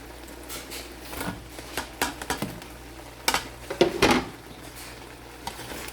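A utensil stirs tofu with broccoli, cauliflower, carrots and chayote in a pan, making irregular scraping knocks and clinks against the metal over a soft background hum.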